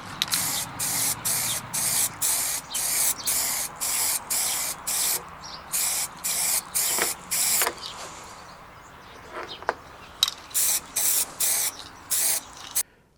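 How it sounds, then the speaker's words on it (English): A Mo-Tip grey primer aerosol can sprays paving slabs in a run of short, regular bursts of loud hiss, each about half a second long with brief gaps between, plus a few faint clicks in a quiet pause. "I'm just going to grab this tin of Mo-Tip grey primer and spray the paving slabs."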